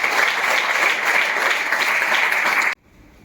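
Loud, continuous applause from a crowd at a direct selling motivational talk, a dense steady clapping that runs for most of the moment and then cuts off abruptly.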